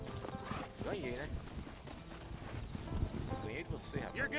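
A horse gallops and whinnies in the Red Dead Redemption video game, with hoof clip-clop running under a rising, wavering neigh, while someone talks over the game sound.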